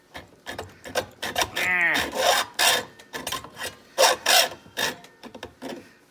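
A hacksaw cuts through a brass rifle case in a rapid series of short, rasping back-and-forth strokes, close and fairly loud, with brief pauses between bursts.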